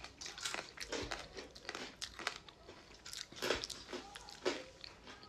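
Freeze-dried strawberry being bitten and chewed close up, giving a run of dry, crisp crunches and crackles with an irregular rhythm, faint overall and without talk.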